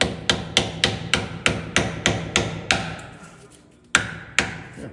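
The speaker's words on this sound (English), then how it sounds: "you're probably supposed to have a seal installation tool, but I've just got a hammer" A hammer taps a seal into place in a truck's workings with about a dozen sharp, evenly spaced metallic strikes close up, a short pause, then two more firm blows.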